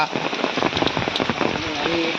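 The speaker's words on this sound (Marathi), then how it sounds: "आता पाऊस पण भरपूर" Heavy monsoon rain falls on a hillside in Konkan, a dense, steady hiss of drops with faint voices mixed in underneath.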